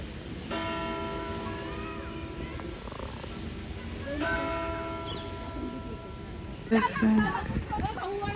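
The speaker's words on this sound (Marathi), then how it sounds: "अजून पण महाराजांच्या काळातील घड्याळ आहे बेल होत 11 वाजलेले जातात" An old clock bell from the Maharaja era in Kolhapur chimes twice, each long resonant tone ringing for about two seconds over steady crowd murmur, with voices speaking nearby toward the end.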